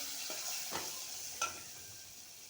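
Steady sizzle of coriander leaves dropped into hot oil tempering for kadhi, with soft stirring scrapes and a couple of brief louder clicks, close and alone without talk.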